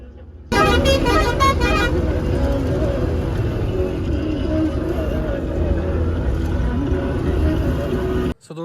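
Buses racing one another on a hill road in far-west Nepal near Dadeldhura, heard as a loud, steady engine rumble with a burst of repeated horn toots near the start, then continuous driving noise until an abrupt cut.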